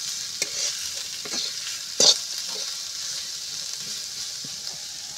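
Onion and garlic frying in a pan, a soft steady sizzle with several light spatula taps and one louder scrape of stirring around the middle.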